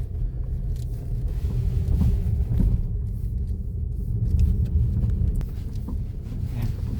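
A 2017 Kia Sportage diesel with front-wheel drive and studless winter tyres drives along a road, heard from inside as a steady low rumble of engine and tyres, with occasional wind buffeting.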